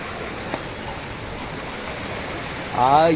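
Flowing water at a tourist site in Pokhara, Nepal, a steady, close rushing roar without pause, with a voice briefly rising over it at the very end.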